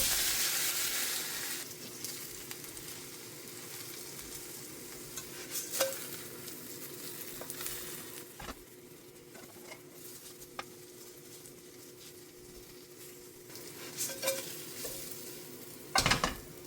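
Shredded potato pancake frying in a pan, a steady oily sizzle and crackle throughout with occasional sharper pops and a few scraping stirs near the end.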